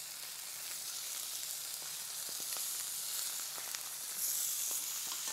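Teriyaki fish, freshly flipped in a hot pan, sizzles with a steady, bright hiss and scattered pops and crackles, growing a little louder toward the end.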